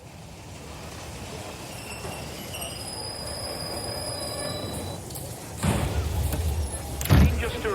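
A train pulls in at a station platform, a steady low rumble and rolling wheel noise with a thin high squeal of wheels, then heavier clunks and thuds near the end as it comes to a stop, close and without talk.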